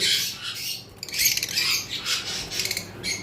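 A pair of green opaline Fischer's lovebirds in a cage at a bird farm give rapid, shrill squawks and chirps that overlap continuously, close by and fairly loud, with no talking.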